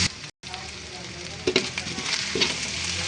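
Ground pork fries for ginisang sayote in a pan that is about to be covered, making a dense, close crackling sizzle. A short dropout is followed by scattered utensil scrapes and bumps, with no talking.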